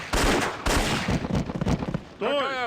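A few loud gunshots in The Infernal Machine game, close and punchy bursts in quick succession, followed by a brief metallic ringing tail.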